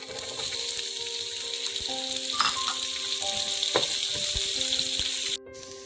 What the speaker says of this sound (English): After sauteing my onions, I'm going to add in ginger, garlic